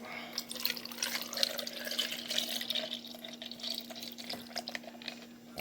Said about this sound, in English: Then you're going to add the almond milk.